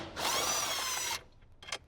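A 10mm socket tool removes a dash bolt in a 2015–2018 Jeep JK Wrangler, giving a single loud, close whirring burst of about one second, then a brief faint click.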